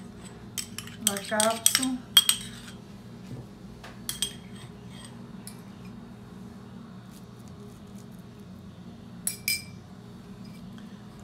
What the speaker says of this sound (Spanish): Vamos a ponerle los huevos. Bueno, lo voy a batir.